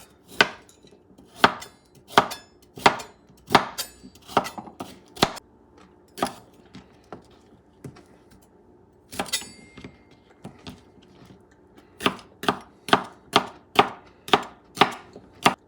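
A knife chops a peeled carrot on a board for a bison stew. Crisp, rhythmic thuds come in quick runs of several strokes, pause, then start again, close and clear with no talking.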